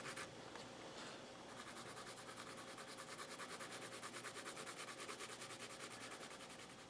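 A colored pencil is drawn lightly across paper with eased-off pressure, giving a soft, steady scratchy rubbing with a fast, even back-and-forth rhythm, close and fairly quiet, with no voices.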